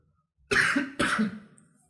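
Two sharp, close coughs about half a second apart, each trailing off briefly, with silence before and after.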